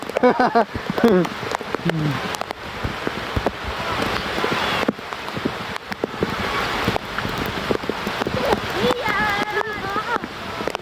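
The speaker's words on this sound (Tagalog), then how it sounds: "Nanguha ng mangga, nabutan ng ulan." Steady rain patters on a surface, with voices talking and exclaiming over it throughout.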